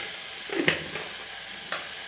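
A spoon stirs a sugared cooking mixture in a pan, two short scraping strokes against a soft, faint sizzle, with no talk.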